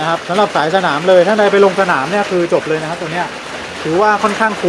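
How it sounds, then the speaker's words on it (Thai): Rain falls steadily outdoors during filming of a Tokyo Marui H&K G3 electric airsoft gun. A soft, constant wash of rainfall runs under someone talking almost the whole time. "ขออภัยเรื่องเสียงนะพอดีฝนตกตอนถ่ายพอดี"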